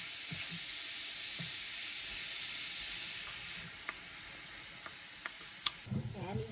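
Garlic and onion sauté in rendered ground-pork fat, giving a steady close sizzle and hiss with occasional stirring scrapes and clicks near the end, no voices.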